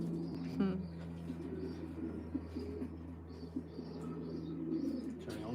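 A racing pigeon with a split tail coos softly in a loft over a steady low hum, with faint chirps and a brief flutter of wings.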